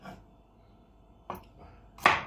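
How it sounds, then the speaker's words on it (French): A knife slices vegetables into rounds on a board for chicken basquaise, with a few sparse cuts, the last one the loudest and closest, against a quiet background. "On les mince en rondelles"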